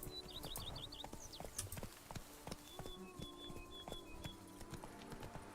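Roach the horse's hooves in The Witcher 3: Blood and Wine, a faint, even clip-clop beat with a few light bird chirps above it and soft tonal game ambience.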